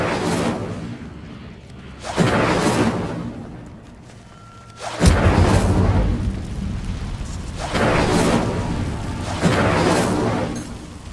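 Incendio fire spells in Hogwarts Legacy go off repeatedly, each a whooshing roar of flame that swells and fades, with roughly four or five bursts arriving every two seconds or so and heavy low rumble.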